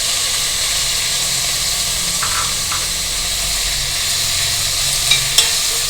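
Tomato and onion sizzle and hiss in a pan while being stirred for a soya paneer veg biryani, a steady moderate frying sound with a few faint utensil clinks near the end and no talking.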